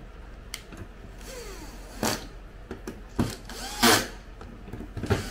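Screws driven into the back of an IGS fish arcade game board, with short whirring bursts from a power driver, several separate runs spaced apart, fairly quiet and close.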